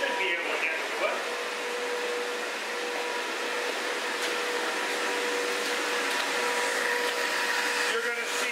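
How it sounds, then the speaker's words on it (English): A W series blower runs steadily, keeping an inflatable full pool unit inflated; a continuous, fairly loud broadband whoosh with a faint steady tone holds throughout, close by and without talk. "You're going to see it's running off of a little bit different blower, okay? That's a W series blower"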